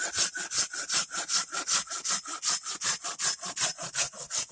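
A handsaw trims the end off a wooden spoon blank, loud and close, with fast rhythmic back-and-forth strokes that rasp through the wood for several seconds and no talk.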